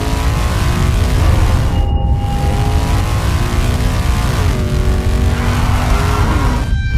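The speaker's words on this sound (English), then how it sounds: "the car begins to slide and turns 90 degrees into the wall" A race car loses grip and slides sideways toward a wall, its loud engine whining and shifting pitch over a steady roar of tire and road noise, with no voices.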